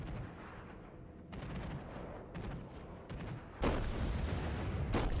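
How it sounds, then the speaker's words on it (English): USS Iowa battleship main guns firing volleys in World of Warships, with several rumbling booms over a steady low roar, ending in two sharp, loud blasts near the end. "2 volleys off on that carrier and a volley off on the scout returning"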